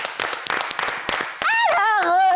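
Studio audience on a French TV talk show clapping for about a second and a half, a loose burst of claps mixed with voices, then giving way to a loud, sustained wavering vocal cry or cheer.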